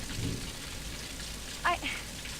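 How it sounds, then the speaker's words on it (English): Rain from a thunderstorm falls outside, a steady, fairly soft hiss with one brief sharper knock partway through, heard alone without speech. "I guess I decided to record this video in the middle of a thunderstorm."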